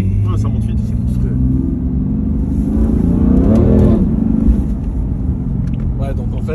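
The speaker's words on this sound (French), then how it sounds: "Et le son métallique comme ça, et je l'ai toujours dit, le son de la M4 me fait" A BMW M4's engine revs hard with a metallic edge, the rumble swelling into a rising, sweeping climb and then dropping back, with someone talking over the engine.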